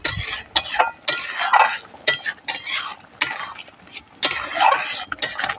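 Fried paneer being stirred into butter masala in a pan, with repeated scraping strokes of a spoon or spatula against metal over a soft sizzle, in uneven bursts.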